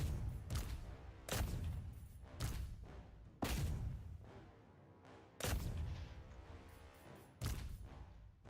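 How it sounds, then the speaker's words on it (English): Artillery cannons fire in a Total War: Warhammer III battle, a series of about six heavy, booming shots spaced roughly one to two seconds apart, each with a long rumbling tail. "Let me make sure I've got all of this artillery firing where I want it to go."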